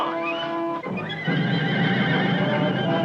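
A horse gives a loud, drawn-out whinny that breaks into shuddering snorts, close by, over a noisy, restless background as horses are held still at a patch of quicksand.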